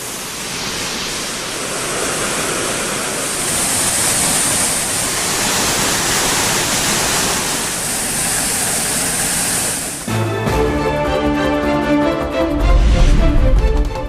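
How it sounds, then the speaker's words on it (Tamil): Water roaring down the Hogenakkal waterfalls on the Kaveri river, a loud, steady, broadband rush filling the scene for about ten seconds before other sound takes over. "ஒகேனக்கல் அருவிகளில் ஆர்ப்பரித்து கொட்டும் நீர்."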